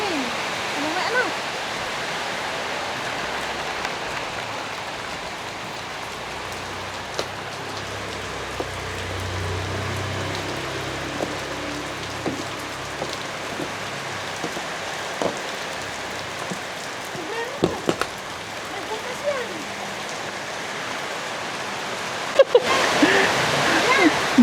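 Heavy rain pours down steadily, a broad continuous hiss with scattered nearby drips and splashes, and a few soft sounds toward the end.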